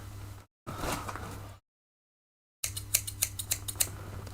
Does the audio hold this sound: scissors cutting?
yes